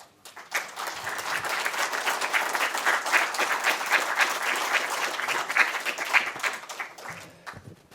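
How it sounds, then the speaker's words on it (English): A conference audience gives a round of applause for the Chief of Staff of Óglaigh na hÉireann, a dense, even wash of clapping that swells quickly, holds steady and fades away after about seven seconds. "It isn't very often a Chief of Staff gets a round of applause before he speaks."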